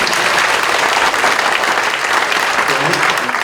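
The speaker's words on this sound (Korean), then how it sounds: "박수합니다." A church congregation applauds during a Korean elder ordination service, loud, dense clapping filling the hall continuously and evenly from start to finish.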